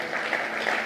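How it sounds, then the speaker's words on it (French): Audience applause during a political speech in Paris, a brief, moderate wash of clapping heard at a distance. "qui déclenche les applaudissements"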